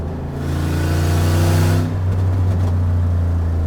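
Corvette pulling hard from 60 toward 150 mph, a loud, close engine roar that climbs steadily in pitch, drops briefly at a gear change near the two-second mark, then keeps pulling with a strong, sustained drone.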